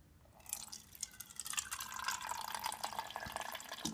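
Water from a Velaqua water system pours into a container, starting as splashy trickles and settling into a steady, close stream whose tone rises as the vessel fills.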